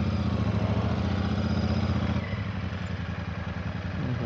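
Motorcycle engine droning steadily up close during a ride along a roadside in Mabini, Batangas, a continuous mid-pitched hum that eases slightly partway through, with no talking.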